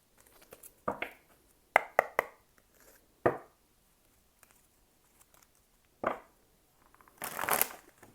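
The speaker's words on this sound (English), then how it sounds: "That was not a good shuffle." Tarot cards being shuffled by hand in short riffling bursts, with a few sharp slaps and a longer rustling flurry near the end, close and fairly quiet with gaps between.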